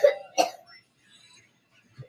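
A person coughs twice in quick succession, close and fairly loud, followed by a faint low murmur and a brief soft sound near the end.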